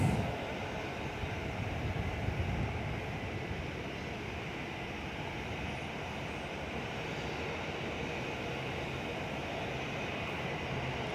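Airlink ATR turboprop on its takeoff roll, a steady broad engine roar held at a fairly constant loudness throughout, with no talk over it.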